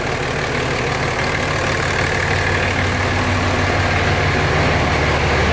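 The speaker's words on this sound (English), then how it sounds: "It's like the right amount of loud because it has like a straight through muffler." A Cummins diesel engine fitted in a truck and breathing through a straight-through muffler idles with a loud, steady, deep rumble that holds constant throughout, close by and with no one talking over it.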